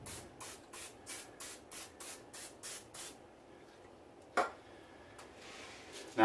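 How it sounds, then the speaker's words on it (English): An olive oil aerosol cooking spray hisses in about ten short, evenly spaced bursts onto chicken, followed by a couple of quieter sprays. Nearby and fairly soft. "Now we're going to hit those with a little bit of the olive oil cooking spray."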